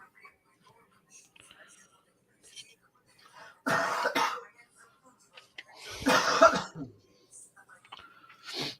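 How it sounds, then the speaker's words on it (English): Two bursts of harsh coughing, a short fit followed by a longer one a couple of seconds later, with quiet murmuring and soft breathy sounds around them. "That doesn't sound a good cough."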